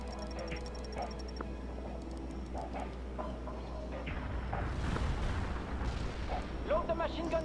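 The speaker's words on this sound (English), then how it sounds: "Incoming fire. Get down." Incoming artillery fire in a war video game, with booming explosions and rumbling blasts building toward the end, under continuous background battle noise and radio-style voices.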